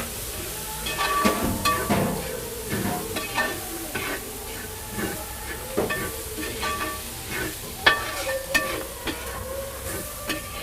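Turmeric-coated food sautéed and stirred in a pan: repeated scraping, clattering strokes over a steady soft sizzle, close and moderately loud, with no voices.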